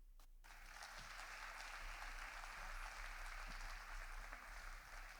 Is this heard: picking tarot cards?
no